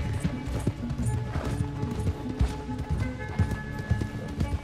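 Horse hooves galloping in the video game Red Dead Redemption 2, a quick steady run of thudding hoofbeats at moderate level, with faint game ambience behind.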